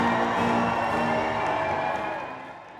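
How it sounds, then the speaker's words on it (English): An audience at the American Federation of Teachers national convention gives Vice President Kamala Harris a standing ovation, a broad wash of clapping and cheering that holds steady and then fades slowly toward the end. "To applause and standing ovation"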